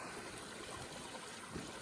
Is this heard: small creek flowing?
yes